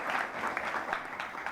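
Audience applause at an outdoor rally for disability rights, a continuous burst of many hands clapping at moderate loudness, without talk over it.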